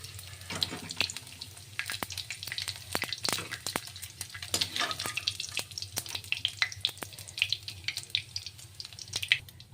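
Food frying in a pan until golden, an irregular crackling sizzle with spitting pops and scraping stirs, fairly close and without talk.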